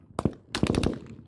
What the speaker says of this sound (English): The sound of gunfire goes on for more than 5 minutes.